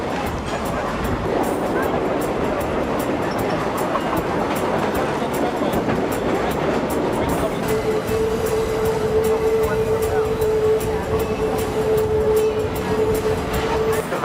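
A California Western Railroad heritage train rolls along with a steady rumble and rattle of cars; a sustained horn-like tone joins midway, with voices faintly underneath.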